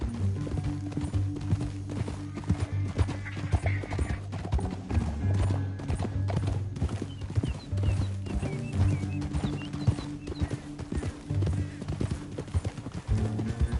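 Horse hooves clip-clop in a steady rhythm while riding in Red Dead Redemption 2, a close, continuous trotting beat over a low game soundtrack, with a horse whinny and faint background sounds mixed in.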